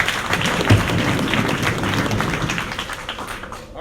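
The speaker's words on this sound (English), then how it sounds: "can we give these group of individuals a round of applause again," A crowd at a keynote event applauds loudly and continuously, with dense, close clapping that barely eases toward the end.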